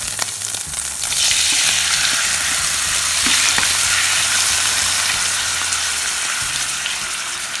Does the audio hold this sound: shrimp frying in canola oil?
yes